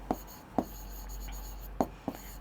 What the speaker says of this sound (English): Let me write it properly.